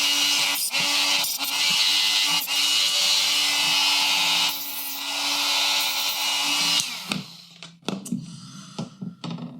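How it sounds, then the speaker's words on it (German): A power saw whines steadily through thin brass tubes in several long cuts, close and loud, ending with clinks and handling sounds. "Da sägen wir uns jetzt einfach mal ein paar Stückchen ab."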